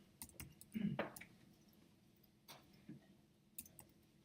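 Typing on a computer keyboard: a few quiet, scattered key clicks and taps in a small burst, close and soft, with brief gaps between them.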